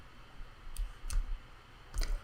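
A computer mouse clicks three times at an editing desk, crisp and close, with irregular spacing over a low steady room hum.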